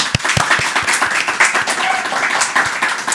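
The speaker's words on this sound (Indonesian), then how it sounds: "Tepuk tangan dulu tamu yang di sini ya." A studio audience on a talk show claps for the guests, a steady, fairly loud wash of many hands with a few distinct sharp claps poking through.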